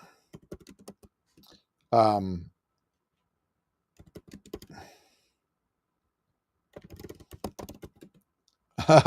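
Scattered bursts of clicks from typing on a computer keyboard, separated by quiet gaps, with a brief vocal sound in between.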